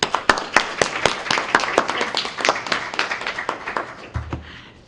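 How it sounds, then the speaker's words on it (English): Small indoor audience at a talk about tailgate markets, clapping in a steady burst of close, crisp handclaps that thins out and stops after about four seconds. "May you lead a round of applause for Dr. Matthews."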